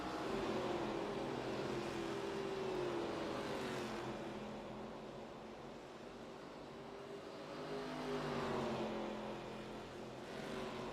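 iRacing race car engines whine past one after another at New Hampshire, swelling loud and then fading, a continuous roaring stream of motor noise.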